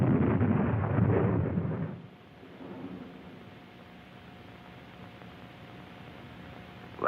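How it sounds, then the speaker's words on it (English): An anti-personnel mine detonates on the El Alamein battlefield, a loud, broad rumbling blast that lasts about two seconds and then drops to a low, steady background hum. "That explosion was one of our mines."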